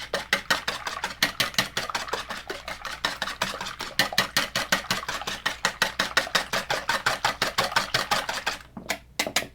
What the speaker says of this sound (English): I'm just going to take the whisk and